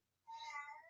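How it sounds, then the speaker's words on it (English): One short, fairly faint meow comes from a lonely house cat shut behind a door, a single rising cry with no voices over it. "He's lonely because he's on the other side of the door."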